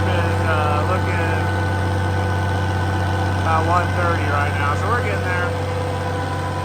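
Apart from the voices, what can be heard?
red 1206 tractor engine running on a dyno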